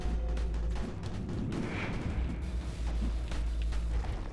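Mortar and artillery-style explosions from the tower defense survival game Desperate Place, several dull booms and thuds layered over a continuous rumbling battle bed, fairly loud with no talking.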